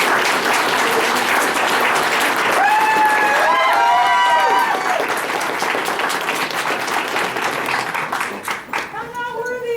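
Loud, sustained audience applause and cheering at a cosplay contest at a comic convention, a dense crowd clapping with a voice calling out briefly partway through before it thins toward the end.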